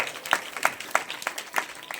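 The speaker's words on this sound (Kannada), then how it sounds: "ಜೋರಾದ ಚಪ್ಪಾಳೆ" An audience claps in a steady, loose rhythm of sharp hand claps, fairly close and unbroken for a couple of seconds, at a Kannada religious discourse program in Jeratagi.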